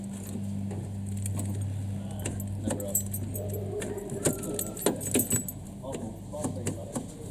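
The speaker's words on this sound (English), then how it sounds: "There's the keys." Keys for a Mini Cooper S R53 jingling and clinking close by, with bursts of metallic rattles, over a low steady hum of the car and a voice.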